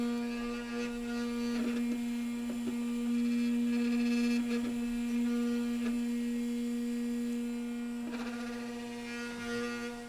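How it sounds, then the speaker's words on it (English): A steady electrical hum from workbench equipment used in an iPhone 6 repair, with a buzzing rattle against its mount that swells and eases in a few spots, heard continuous and close. "Maybe you need to put some rubber in between it because it's rattling quite a bit on that mount"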